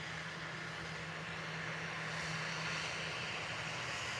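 An easyJet airliner departing Liverpool Airport for Belfast makes a steady, broad engine roar heard from a distance, holding constant throughout with no voices over it.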